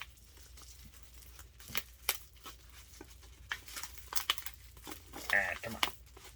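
A blade pokes and cuts into a plastic bag wrapped around an old CCM jersey, making close, irregular crinkling and scratchy tearing noises in uneven bursts.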